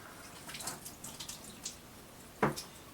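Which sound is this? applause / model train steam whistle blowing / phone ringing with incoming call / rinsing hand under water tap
rinsing hand under water tap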